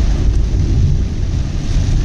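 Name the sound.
heavy rain on highway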